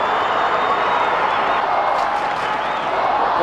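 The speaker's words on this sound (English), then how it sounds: "The crowd is roaring for the Hawks" A packed Australian football crowd at a 1997 Port Adelaide versus Hawthorn match roars and cheers in a dense, sustained wall of noise, loud and unbroken throughout.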